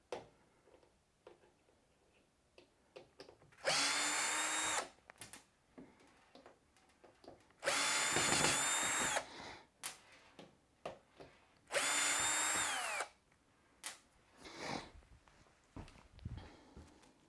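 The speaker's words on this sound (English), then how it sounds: "Remove all the screws on the bottom of the washing machine." Power screwdriver backing screws out of the bottom of an LG washing machine: three loud, sustained whirring bursts of a few seconds each, separated by quieter clicks and handling taps as screws are set aside.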